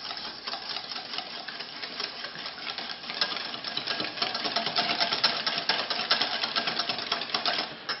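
Egg and Tabasco mixture for hollandaise is beaten hard in a bowl, producing a dense, rapid clattering whir that runs steadily for about eight seconds and grows slightly louder midway, with no talking.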